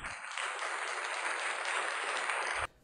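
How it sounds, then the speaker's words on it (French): Studio audience applause at a Mother's Day television show, a steady dense wash of clapping that holds evenly for over two seconds and then cuts off abruptly. "(applaudissements)"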